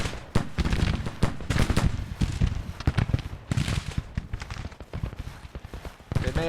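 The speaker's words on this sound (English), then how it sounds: "Oh lord, they are shooting at us. They're shooting at us with the cavalry." Cavalry fire rifles in a Civil War strategy game, a dense stream of crackling shots and rapid volleys close by, with irregular bursts and no pause.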